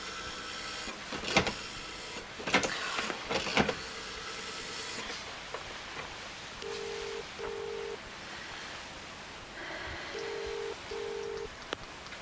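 A telephone number is dialed on a 1983 household phone, with two pairs of short, even tones spaced apart over faint room noise, after some louder clunks of the handset being picked up.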